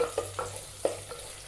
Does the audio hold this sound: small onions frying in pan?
yes